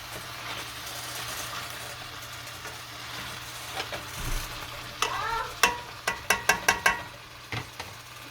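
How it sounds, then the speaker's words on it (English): Garlic butter shrimp are stirred in a pot on a stove, giving soft scraping and a faint sizzle at first, then a run of sharp, close clinks and scrapes of the utensil against the pot. "after putting this, I'm just gonna stir this up"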